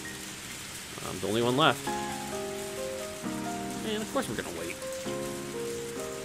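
Steady rain falls in a park setting in the visual novel ONE: Kagayaku Kisetsu e, a constant hiss beneath someone speaking and soft, sustained background music.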